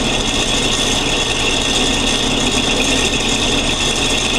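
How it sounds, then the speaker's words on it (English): A tap cuts threads into a turning bolt as the slide pushes the bolt into it, in a home workshop 3D-printer build. A loud, steady rasping grind runs unbroken throughout, with no talking. "as this cuts threads into the bolt, it turns the bolt"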